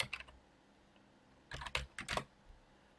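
Keys on a computer keyboard are struck in two quiet bursts: a short cluster of taps, a pause, then a quicker run of clicks.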